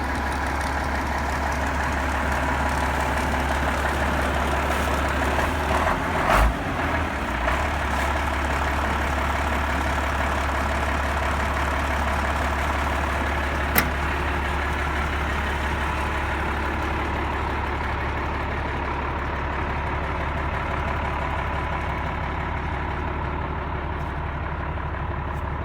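A grain truck engine runs at a steady low idle, a constant heavy diesel rumble with a brief clunk early on and a sharp tick midway, close and loud, no talking.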